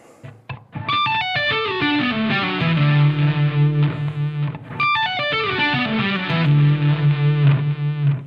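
A distorted electric guitar lick at moderate tempo, quick descending picked notes ending on a held, vibrato-laden low note, repeated twice in close succession without talk.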